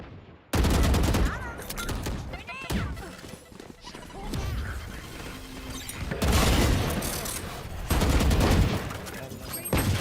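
Rapid bursts of gunfire and crashing impacts from the tactical shooter Valorant, including shotgun blasts, loud and dense in several surges, with voices talking over parts of it.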